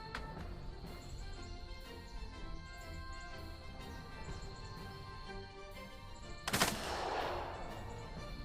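Gunfire in the hex-based squad tactics game Second Front: a single sharp, loud shot or short burst rings out near the end, set against a steady low background hum.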